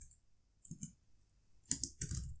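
A few quiet, scattered keystrokes on a computer keyboard entering an SQL query, in two short bursts of soft clicks separated by a pause.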